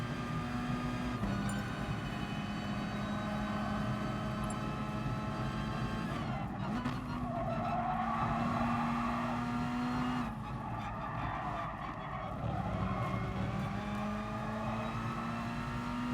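A race car in GT Sport drives with a steady engine drone that shifts pitch through gear changes, with brief tire skids and no talking, moderately loud throughout.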